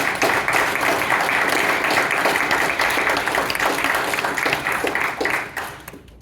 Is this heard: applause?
yes